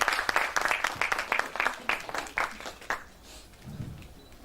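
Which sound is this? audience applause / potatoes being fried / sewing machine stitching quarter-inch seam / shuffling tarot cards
audience applause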